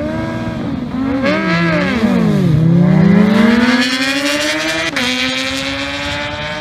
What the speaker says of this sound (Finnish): Tää lähtöön Mika Ronkainen Hajapusalla radalla 1 ja Jani Manttila niin ikään Hajapusalla sitten tuossa radalla 2